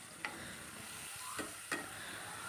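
Red amaranth leaves frying in a pan give a quiet, constant sizzle broken by three brief clicks of a utensil.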